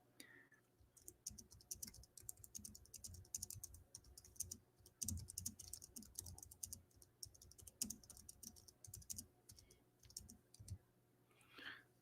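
Steady typing on a computer keyboard, close and fairly quiet, with rapid irregular key clicks running throughout and brief pauses between bursts.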